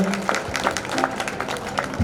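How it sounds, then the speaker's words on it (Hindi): Crowd at a public event clapping to welcome minister Kailash Vijayvargiya, scattered but steady applause with distinct individual claps, moderately loud, with some voices mixed in. "कैलाश जी के लिए जोरदार ताली बजा के स्वागत करें"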